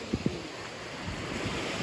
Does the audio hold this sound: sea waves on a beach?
yes